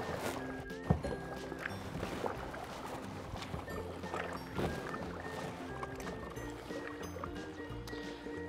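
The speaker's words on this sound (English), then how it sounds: "So you do feel a little bit of drag when you first start paddling the kayak" Seastream Angler pedal drive kayak moving on open water, with continuous splashing and churning water sounds and occasional knocks and thumps from the hull, steady and close throughout.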